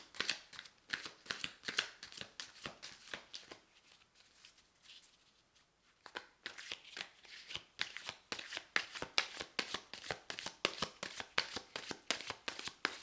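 A deck of tarot cards being shuffled by hand in quick riffling bursts, close and crisp, with a brief pause in the middle before the rapid shuffling resumes.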